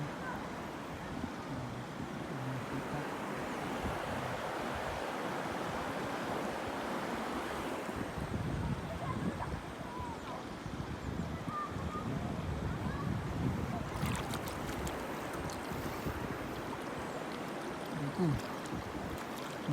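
Clear river water rushing and splashing around a swimmer, a continuous broadband wash with wind buffeting the microphone and scattered splashes, steady throughout with faint voices underneath.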